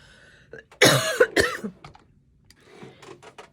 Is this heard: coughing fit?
yes